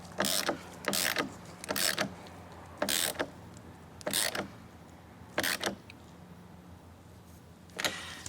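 A ratchet tightens the battery terminal on a Ford truck in seven short, sharp clicking bursts. The bursts come at irregular intervals, with quiet pauses between them, close up and with no talking.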